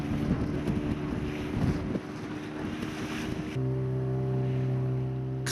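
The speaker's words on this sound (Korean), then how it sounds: "그 이유는 바로 시끄러운 모터 소리에 있었다." A noisy motor boat engine drones steadily at sea off Indonesia during a whale hunt, a loud continuous hum with wind buffeting the microphone and water wash, no talk.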